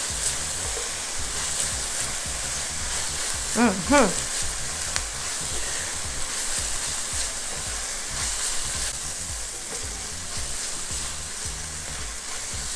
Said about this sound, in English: This pan is very hot, so it took us literally about 1 minute for our aromatics to be released and our onions to break down